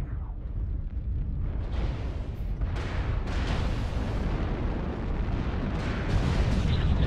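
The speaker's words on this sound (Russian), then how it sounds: "О, как наши стреляют" Tank battle gunfire and artillery rumble on continuously at close range, a dense roaring wash with repeated booming blasts and cracks, heavier toward the end, with no clear voices over it.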